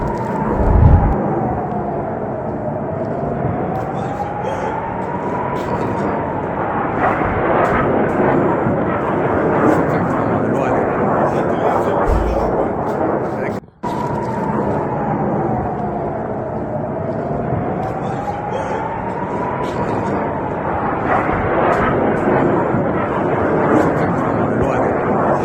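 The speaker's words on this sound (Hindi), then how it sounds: "एक मिसाइल ईरान की इजराइल में गिरी है" Iranian missile strikes landing in Israel: low, heavy booms sound twice against a steady roar and a rising-and-falling wailing siren, with voices talking throughout.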